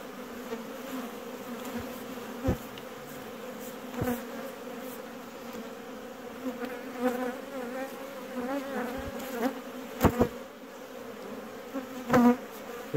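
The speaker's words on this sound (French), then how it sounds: "Ici c'est la ruche." Honeybees buzz around an open beehive, a steady close hum of many insects with occasional louder passes and light knocks from handling the hive.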